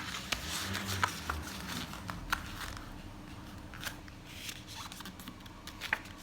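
A square sheet of A4 paper is creased and folded by hand for a krathong, with faint, close crinkles and soft sharp taps scattered over a quiet background.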